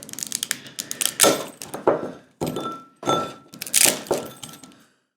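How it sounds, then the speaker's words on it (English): Dry block of Ottogi Yeul super spicy ramen noodles being crushed inside its foil sleeve, a series of sharp crackling crunches in irregular bursts, close and loud. "Bust them up, fit them in the bowl."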